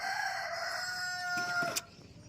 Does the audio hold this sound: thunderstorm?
no